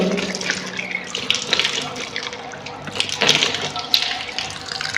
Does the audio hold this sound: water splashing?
yes